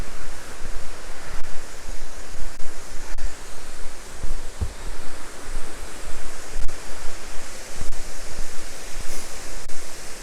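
A waterfall in Roe Valley Country Park roars as a steady broadband rush, close and loud, with gusting swells and occasional wind buffeting the microphone and no voices.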